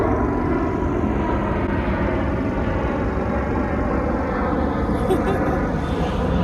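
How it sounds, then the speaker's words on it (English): A fixed-wing airplane flying overhead over London, a steady broad roar of engine noise that stays fairly constant throughout, with no other sound standing out. "look at this plane"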